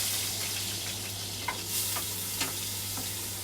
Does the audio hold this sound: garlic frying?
yes